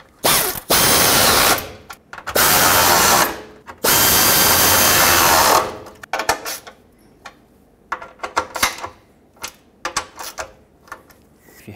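A ratchet tightens the three fog light bracket mounting bolts: three long, loud bursts of rapid clicking, then a series of shorter, sharper ratchet strokes and clicks, close up with no talk.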